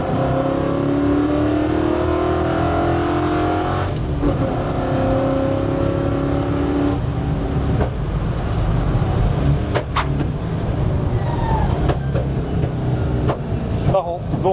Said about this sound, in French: si tu mets un coup de gaz, ça donne quoi là rapidement?